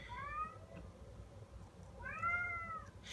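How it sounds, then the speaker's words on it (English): A house cat meows twice, a drawn-out cry near the start and a louder, longer one after a pause, heard close over faint room noise. "my cat is crazy"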